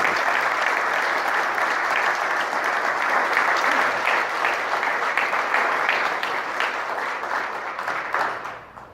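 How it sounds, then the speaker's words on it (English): A crowd at a political campaign event applauds steadily for several seconds, dense clapping at even strength that tapers off at the end. "Please give them a round of applause."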